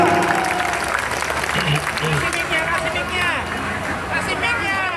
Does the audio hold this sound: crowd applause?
yes